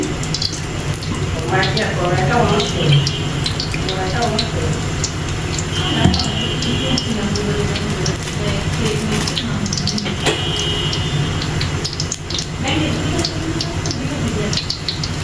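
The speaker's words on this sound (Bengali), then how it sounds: "আমার পাস্তাগুলো সিদ্ধ হয়ে গেছে এখন পানি ছেঁকে নেব" Water from boiled pasta is strained off in a kitchen, a steady rushing pour with small clatters. A voice talks over the sound.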